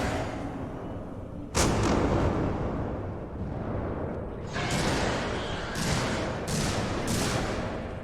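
Repeated bursts of gunfire in an alien survival video game, loud and close, with sharp blasts breaking over a dense, continuous roar of firing.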